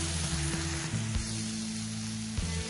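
Onion and tomato sizzle steadily in a clay pot for fish curry, a close, continuous frying hiss with a few light stirring bumps and no talk.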